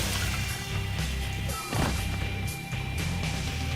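Rocket launcher blasts in Brutal Doom, set among heavy game explosions: loud booming impacts with a sharp burst near the middle, layered over rumbling low-end noise and a continuous game soundtrack.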